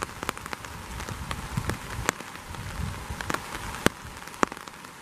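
Steady rain pattering on a surface during a thunderstorm, with scattered louder drops tapping nearby throughout.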